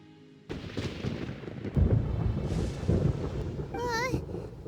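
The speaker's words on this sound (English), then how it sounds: "Paimon hears thunder!" Deep, rolling thunder rumbles through a Genshin Impact story scene, beginning in sudden heavy waves that swell and subside. A brief chiming game tone rings near the end.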